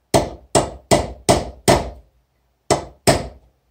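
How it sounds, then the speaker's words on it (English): Hammer striking a metal punch set against a spark plug held in a vise: seven sharp, ringing metallic blows, five evenly spaced, then a pause and two more, loud and close with no talking. "take a punch and a hammer, and give it a couple of whacks."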